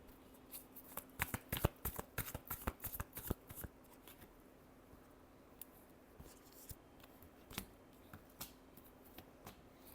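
Tarot cards being shuffled close up, a quick flurry of crisp riffling slaps early on that thins into scattered, softer card taps, all quiet and without talk.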